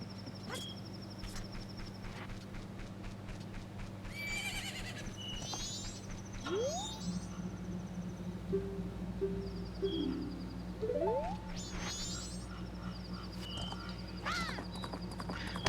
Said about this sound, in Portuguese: Por que o cavalo tá chamando?